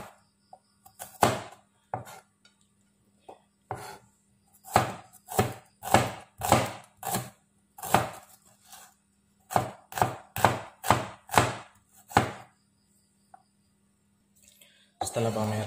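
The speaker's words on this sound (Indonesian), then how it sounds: "Saya iris tipis-tipis saja." A knife chops thinly sliced shallots on a board for an Indonesian beef asem-asem stew, making clear, crisp thunks in uneven bursts of quick strokes separated by pauses.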